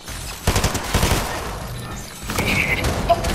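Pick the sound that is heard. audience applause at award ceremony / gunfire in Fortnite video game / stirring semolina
gunfire in Fortnite video game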